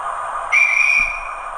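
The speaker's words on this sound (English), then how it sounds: "I'll just get the guard's whistle there" A sharp, high guard's whistle sound effect from a Hornby Class 43 HST model train sounds once over a steady engine hum, followed by a soft thud of a door slam.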